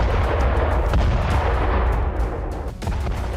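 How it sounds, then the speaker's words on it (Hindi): Rapid, continuous heavy blasts and booms from a military strike on a Russian weapons warehouse in Kursk, loud and dense throughout with no pauses. "कुर्स्क में यूक्रेनी सेना ने रूस के हथियार गोदाम पर धमाके किए"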